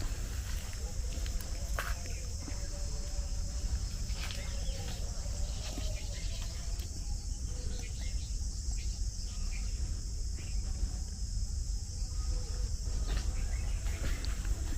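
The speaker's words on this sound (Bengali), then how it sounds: "ঝিঝির ডাক" Crickets chirping near a riverbank at a rural ashram in Birbhum, a dense continuous high trill over a low rumble of background noise, with a few faint knocks and distant sounds mixed in.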